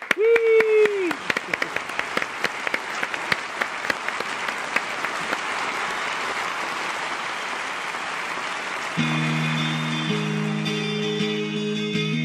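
Audience applauding a musician on a televised program, dense clapping that starts strong and gradually thins, followed by music coming in under it.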